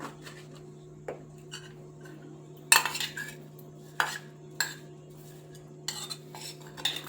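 Garam masala and spices being mixed in a bowl with a spoon: scattered metallic clinks and scrapes at an irregular pace, close and fairly crisp, over a steady low hum with no talking.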